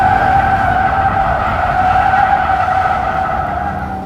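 A car drifts on a track, tires skidding in a loud, sustained squeal over engine roar that fades slightly toward the end.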